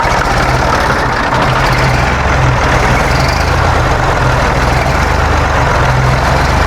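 A heavy diesel tractor engine idles close by, a loud, steady low chugging rumble with no talking.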